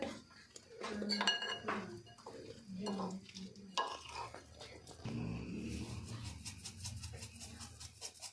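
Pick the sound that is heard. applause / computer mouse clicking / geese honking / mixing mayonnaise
mixing mayonnaise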